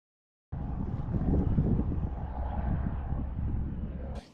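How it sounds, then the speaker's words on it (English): A windstorm at Muddy Gap, Wyoming buffets a camping tent, a loud continuous low roar with gusting surges that starts abruptly and holds steady throughout, with no voices. "Got a bit of a windstorm going on here at Muddy Gap"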